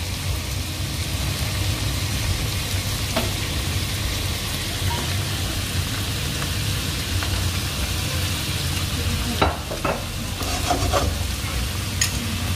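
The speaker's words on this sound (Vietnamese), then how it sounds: "Đun một xíu cho tôm chín thì mình mới cho hành vào." Shrimp stir-frying in a hot pan with a steady, loud sizzle throughout, with a few scraping stirs of the utensil near the end.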